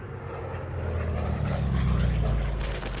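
U.S. military planes fly overhead in wartime, a sustained droning engine roar that builds and stays loud, ending with a sharper hissing burst.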